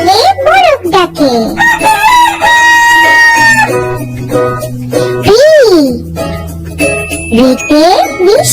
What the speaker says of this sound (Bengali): উষাকালে মোরগ ডাকে।